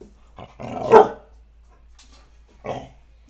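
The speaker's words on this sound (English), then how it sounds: "Did you hear yourself bark?" A pet dog gives a loud, close bark, then a shorter, softer second bark about two seconds later, with quiet between them indoors.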